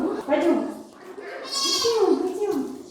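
A goat bleats in a few wavering, nasal calls on a farm, close by and fairly loud, with voices nearby.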